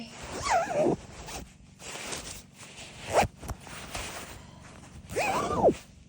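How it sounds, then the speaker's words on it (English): A coat zipper is pulled up inside a Mongolian ger, with several close, sharp rasping zips separated by quiet pauses and rustling fabric. "Okay, I just zip it up."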